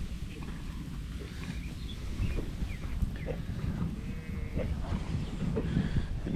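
A flock of ewes moved onto a fresh grazing break on a farm, a steady low rumble of many sheep with scattered bleats and shuffling under constant outdoor background noise.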